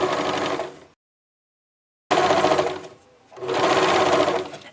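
A sewing machine stitches binding onto a quilt in two steady, loud bursts of whirring motor noise separated by a pause, with a brief slowdown in the middle of the second run.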